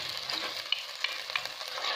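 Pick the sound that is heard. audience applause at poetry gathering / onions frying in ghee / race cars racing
onions frying in ghee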